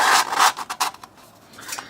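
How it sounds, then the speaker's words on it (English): Metal windscreen pieces for a camp stove sliding together: a few close, brief scraping rubs, then a quieter tail of faint contact noises, with no talking. "I found it easier just to slide it together like that."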